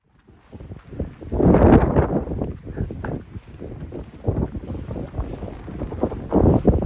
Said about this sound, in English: Jesus, it's windy.